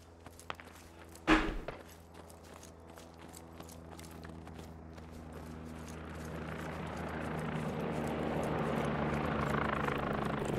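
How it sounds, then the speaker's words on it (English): A helicopter in the military shooter game Squad, its rotor drone building steadily from faint to loud as it approaches overhead, with a brief sharp thud near the start. "Don't shoot this helicopter."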